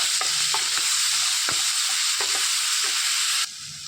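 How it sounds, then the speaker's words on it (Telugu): Chopped onions frying in a pan with cumin seeds for an egg masala gravy curry, giving a steady loud sizzle with scattered stirring clicks and scrapes throughout, no talking. "రెడీ చేసి పెట్టుకున్న ఈ ఆనియన్స్ మొత్తం కూడా వేసేసుకొని వేయించుకోవాలి."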